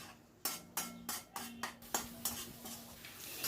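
Spice paste stirred and fried in a pan over a medium-high flame, with a series of sharp spoon scrapes and clinks against the pan at an uneven rhythm over a faint sizzle.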